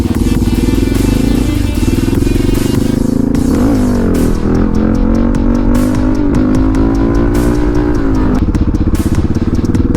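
A motorcycle engine revs hard and loud while riding wheelies, the pitch rising and falling in repeated surges with a steady rattling roar throughout.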